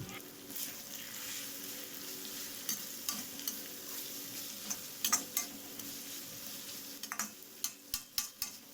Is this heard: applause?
no